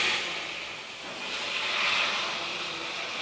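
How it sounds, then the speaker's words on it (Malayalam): Boiled water poured into a hot pan of rava upma produces a loud, rushing steam hiss that surges and eases over a few seconds, with no voices. "നമുക്ക് വെള്ളം ഇങ്ങോട്ട് ഒഴിക്കാം കുറേശ്ശെ."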